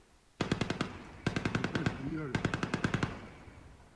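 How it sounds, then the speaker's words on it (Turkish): Gunfire from armed clashes during the Wagner advance in Voronezh Oblast, heard as three rapid bursts of automatic fire, each a series of sharp, evenly spaced shots with brief pauses between them. "Şu anda görüyorsunuz çatışma sesleri."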